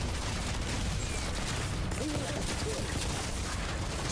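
Rapid gunfire crackles through a chaotic Outriders shooter battle, with dense bursts layered over game effects and ambience while a player talks over the action.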